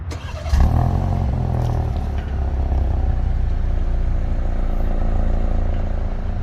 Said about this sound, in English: So that's a little cold start for you.